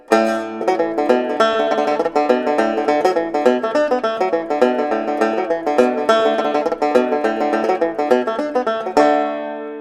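A bright, plucked banjo plays a brisk, steady Irish reel with rapid repeated notes and quick triplet flourishes, ending on a ringing final note.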